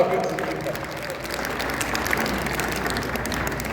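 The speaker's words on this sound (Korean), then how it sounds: "박수" Audience applause at the opening ceremony of a table tennis open tournament in Uljin, a steady broad wash of clapping from a crowd filling the short stretch, with voices murmuring underneath.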